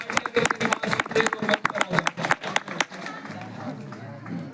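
An audience at a youth gathering in Kishtwar claps for a performing group, a dense burst of applause for about three seconds that thins out into crowd murmur.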